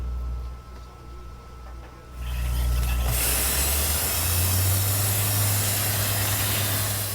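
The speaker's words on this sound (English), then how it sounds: "FIU researchers use a hose to spray the ultra-high performance concrete where it's needed." A hose sprays ultra-high performance concrete with a loud, steady hiss that rises sharply partway through and holds, over a low mechanical engine drone from the pumping equipment.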